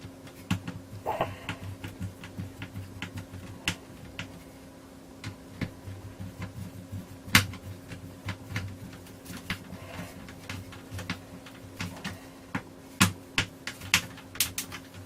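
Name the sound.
screwdriver driving screws back into hedge trimmer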